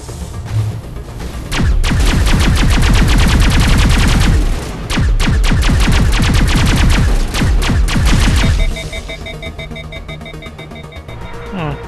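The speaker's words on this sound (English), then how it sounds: "Oh, gunfire weapon." Rapid automatic gunfire from a weapon in the video game Mass Effect, loud sustained bursts of dense shots with a brief pause, then cutting off to quieter ambient game sounds with faint beeps.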